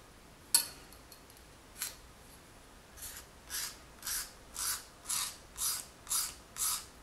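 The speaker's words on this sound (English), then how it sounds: "I'm gently going to scrape along these sides to remove any excess clay that I don't want" A blade scrapes excess baked polymer clay off the sides of a lake-themed pendant, starting with a few sharp isolated scratches and then settling into a steady run of about eight rhythmic close-up scraping strokes, with no talk.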